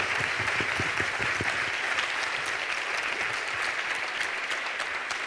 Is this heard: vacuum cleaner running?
no